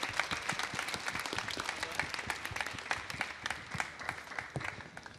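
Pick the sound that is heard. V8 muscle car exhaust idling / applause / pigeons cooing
applause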